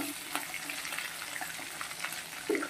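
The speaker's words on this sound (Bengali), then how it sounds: "এবার এই তেলে বাকি চিংড়িগুলো ভেজে নেব" Prawns sizzle and crackle in hot oil in a pan, a steady soft hiss broken by small pops and a louder spatter near the end, with no talking.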